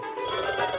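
A telephone rings in a short, bright electronic burst, loud and close with no voices over it.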